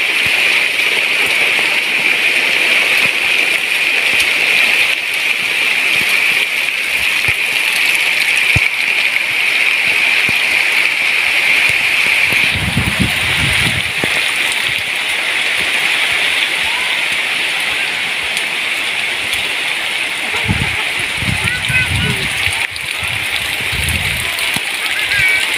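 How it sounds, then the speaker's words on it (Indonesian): Steady rain falls outdoors on a porang crop field, a constant hissing patter that runs throughout, while people speak briefly now and then. "Ya, kita hujan-hujanan teman-teman."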